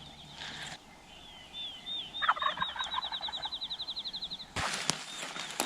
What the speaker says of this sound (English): Got a turkey gobbling just around the hill from me.